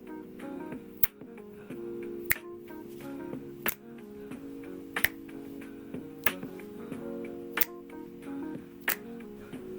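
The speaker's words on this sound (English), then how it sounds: "Do anybody know how to snap anymore?" Sharp, crisp finger snaps ring out one at a time at a slow, fairly regular pace, about seven in all, close and distinct over a soft sustained musical hum.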